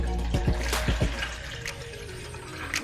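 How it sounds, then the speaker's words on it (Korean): Water poured into a pot for mala ramyeon makes a close, steady splashing and gurgling stream. A few bubbly glugs come early and the flow keeps going throughout, with no talk. "물 500ml를 붓고"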